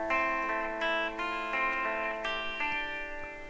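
A clean electric guitar with no effects plays a riff: a close, loud sequence of ringing picked notes that repeats steadily, with no other sound.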